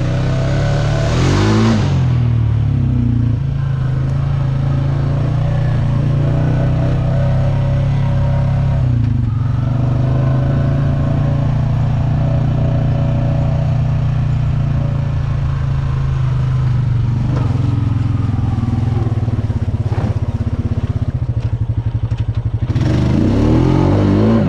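A motorcycle engine drones loudly and steadily while riding handlebar-deep through a creek, with brief revs at the start and end and water splashing and clatter underneath, close to the listener.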